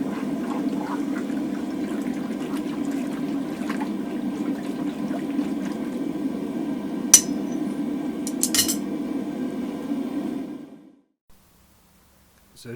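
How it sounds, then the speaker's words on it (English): Hot mild steel round drift is plunged into water to quench it, giving a steady close hiss and bubbling for about ten seconds with a couple of light metallic clinks before it falls silent. "what I'll do is I'll put it in the water and quench it off completely"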